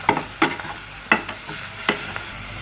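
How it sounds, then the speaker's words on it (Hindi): Chopped capsicum and tomato being stirred and fried in a pan for chicken pasta, a soft sizzle under several sharp clinks of a spoon against the pan at an uneven pace, close up and with no talk. "उसके बाद इसमें जाएंगी आप शिमला मिर्ची, साथ टमाटर, इसको भी हल्का सा फ्राई करेंगे 1 मिनट के लिए"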